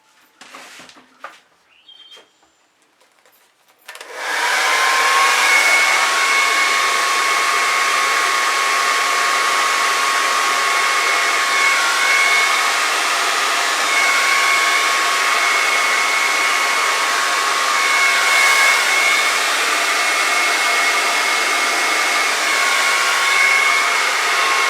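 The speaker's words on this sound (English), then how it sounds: "Got to learn to not drag the blow dryer through that." A blow dryer runs steadily and loudly over a fluid acrylic paint pour, a continuous broadband whoosh with a faint whine that starts abruptly after a few seconds of quiet handling noises and holds to the end.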